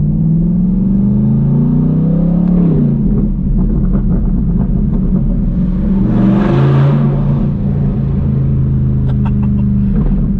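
A C8 Corvette sports car with a very loud exhaust growls and revs nearby, its deep exhaust note rising and falling with a sharp burst of throttle midway.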